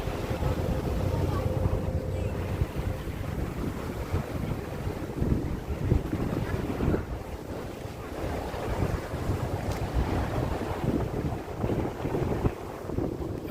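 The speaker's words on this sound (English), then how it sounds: "It's going to be very windy, but it's okay." Strong wind buffets the upper deck of an NYC Ferry on the East River between East 90th Street and Wall Street, a steady loud rush of microphone noise over engine rumble and water, with a voice talking.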